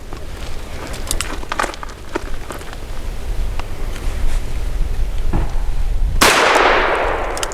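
A Diamondback Sidekick revolver fires Winchester Win Mag Varmint and Small Game full metal jacket 40 grain rounds, one sharp loud report near the end after quieter metallic clinks and handling noise.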